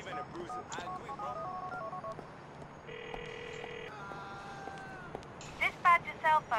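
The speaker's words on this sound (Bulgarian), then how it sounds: "На кой трябва да звънна? На Рей." Phone keypad tones and a dialing beep from a cell phone in the video game GTA 4, a few short electronic tones and a sustained tone mid-clip, with a brief burst of game speech near the end.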